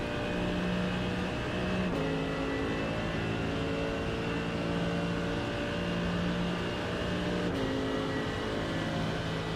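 Race car engines in the iRacing simulator, a steady droning whine with gear-change steps in pitch, moderately quiet and continuous with no talking.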